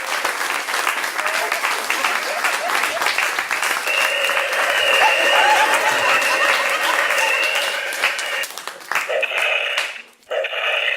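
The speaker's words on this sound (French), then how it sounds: "Veuillez faire un tonnerre d'applaudissements et vous mettre tout nu si vous le voulez en l'honneur de Thierry Dussard" Sustained applause from a crowd honouring Thierry Dussard, steady and full for about nine seconds, then thinning and breaking off near the end with a brief lull before resuming.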